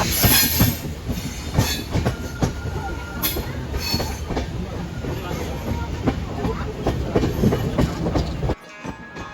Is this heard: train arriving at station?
yes